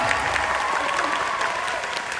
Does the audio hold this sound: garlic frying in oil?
no